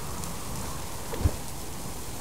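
Torrential rain pours down in the Subsistence Hardcore survival game, a soft, steady hiss of falling water with one brief dull thump partway through.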